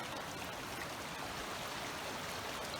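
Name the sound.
creek water flowing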